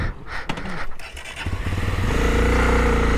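A Honda XRE 300 motorcycle engine idles and then revs up close by, its steady low throb rising and holding loud over the final second and a half.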